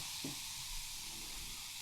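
Freshly poured beer's foam head crackles and fizzes as it settles, a faint, steady hiss carrying throughout with one small soft pop near the start.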